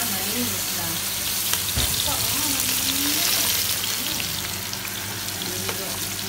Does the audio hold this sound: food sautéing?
yes